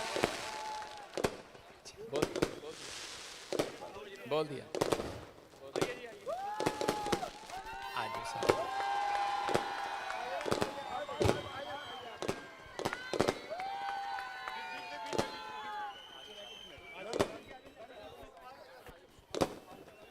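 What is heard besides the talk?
audience applauding for film star Sukhman Sandhu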